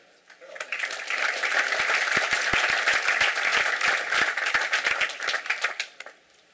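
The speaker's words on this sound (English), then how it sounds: "please give a round of applause" A seated audience at a TechCrunch Disrupt 2010 tech conference interview in New York breaks into applause, a dense, steady patter of many hands clapping for several seconds that swells quickly and then thins out and fades.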